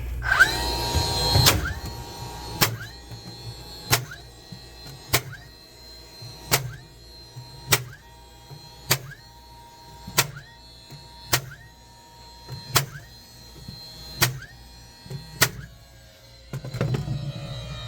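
A DeWalt DCN680 20V 18-gauge brad nailer fires in bump mode into recycled wood, driving about a dozen nails one at a time in a steady rhythm roughly every 1.3 seconds, each a sharp close snap with a brief motor whir.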